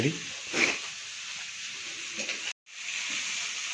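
Fish fries in oil with a steady soft sizzle that cuts out for a moment near the end, with voices faintly present.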